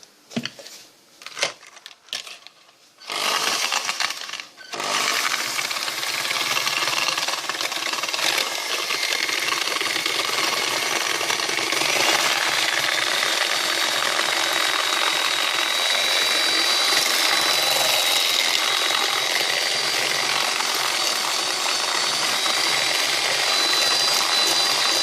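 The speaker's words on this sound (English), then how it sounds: "Take that to the mixer and we'll just mix it all." A kitchen mixer runs steadily, whirring loudly and continuously as it beats sugar into ice cream ingredients, following a few seconds of quieter clatter at the start.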